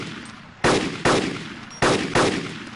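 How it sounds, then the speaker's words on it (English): Four heavy gunshots in the video game DayZ, fired as two quick pairs, each one loud and sharp with a decaying echo tail, heard alone over a low background. "I keep shooting."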